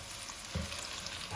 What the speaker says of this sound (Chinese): 再把大料也给它放进来，一块给它炸。